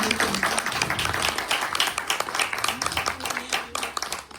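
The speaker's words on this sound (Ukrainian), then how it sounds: "Аплодисменти, пане." Audience applause fills a concert hall during a literary and musical programme, a dense steady wash of many hands clapping throughout, fairly loud and continuous with individual claps standing out.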